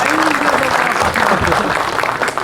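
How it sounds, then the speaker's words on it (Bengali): An audience claps steadily through a pigeon club prize distribution ceremony, a dense continuous applause with voices mixed in underneath. "এটা সবাই হাততালি দিয়ে সম্বোধন জানাবে"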